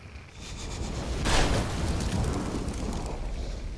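Explosions in the video game Massive Chalice give a broad, rumbling blast that swells near the middle and then settles into a sustained roar, with no speech.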